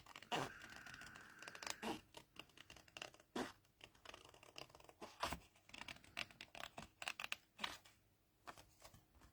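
Card being cut out with scissors while making a spring daffodil card: quiet, close, repeated snipping and scratchy cutting strokes in an irregular rhythm throughout.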